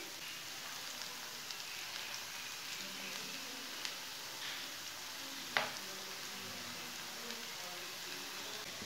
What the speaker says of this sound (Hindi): ये वाली साइड से भी 2 मिनट तक फ्राई होने देंगे।